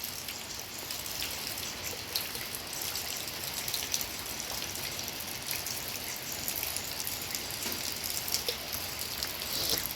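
Heavy rain falling in a steady, dense hiss with scattered drop patters, continuous and fairly loud throughout.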